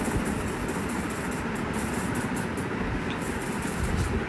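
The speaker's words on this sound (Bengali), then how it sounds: "এই যে আমার ট্রেন এখন আস্তে আস্তে সিলেটের উদ্দেশ্যে যাত্রা শুরু করলো।" A passenger train pulls slowly out of the station bound for Sylhet, a steady low rumble and rolling hum close by with faint high clatter, no voices.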